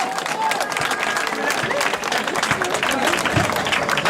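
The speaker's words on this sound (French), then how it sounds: "Deuxième du classement, on peut les applaudir" Steady crowd applause for soapbox race competitors at a 2018 derby, a dense wash of clapping that holds for the whole stretch with faint voices mixed in.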